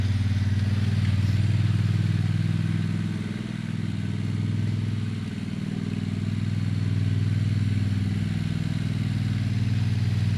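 A Walker lawn mower with a front-mounted deck trims around trees, its engine holding a steady low drone throughout with slight dips in load, close by and with no talk.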